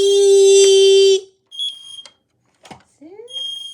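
A smoke detector shrieks with a loud, piercing beep tone, then cuts out, leaving short high chirps and a rising whistle-like sound nearby.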